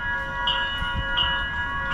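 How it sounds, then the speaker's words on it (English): Siemens light rail train of Minneapolis's Blue Line pulling into a station, a steady electric tonal whine with soft rumbling and faint clanks, close by and with no talking. "when our train arrives, made up of newer cars from Siemens"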